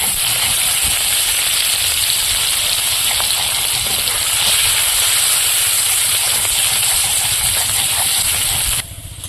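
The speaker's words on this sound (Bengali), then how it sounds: "এবার পেঁয়াজ কুচি আর রসুন থেতো দিয়ে দেবো।" Chopped onion and crushed garlic frying in hot oil with cumin and bay leaf, giving a steady, loud sizzle and hiss that runs unbroken and drops off near the end.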